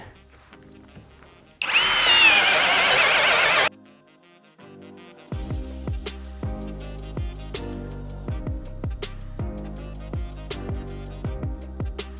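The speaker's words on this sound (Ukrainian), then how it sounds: "працює краще з імпактами, але спробуємо на цьому шуруповерті" A Procraft PI18BL drill driver spins a 22 mm Milwaukee Speedfit bit in a loud continuous whir for about two seconds, followed by a series of clicking, knocking taps nearby.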